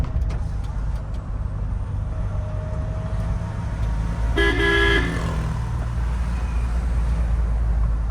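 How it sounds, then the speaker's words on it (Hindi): A single Mahindra Scorpio Classic car horn blasts for about half a second over the steady rumble of its running engine and nearby city traffic. "आपको मैं रूट्स के हॉर्न की आवाज़ सुनाता हूँ।"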